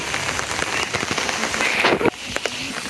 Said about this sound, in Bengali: এই টিপ বৃষ্টি দেখেন আপনারা, এই বৃষ্টি থামতেছে না।